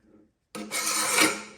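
A hand file rasps across the teeth of a Husqvarna chainsaw chain as it is sharpened: one loud, close, gritty stroke after a brief faint lead-in and a pause.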